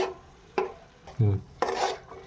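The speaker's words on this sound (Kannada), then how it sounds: "ಇದನ್ನು ಇವಾಗ ನೀಟಾಗಿ ಫ್ರೈ ಮಾಡ್ಕೊಳ್ಳಿ" Spiced food is fried and stirred in a pan, with four distinct scraping strokes of a utensil against the pan under a low background sizzle, close and without talking.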